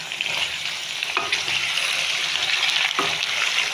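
Onions, garlic and tomatoes sizzle steadily in a pan, close and continuous, with a couple of brief scraping stirs breaking the hiss.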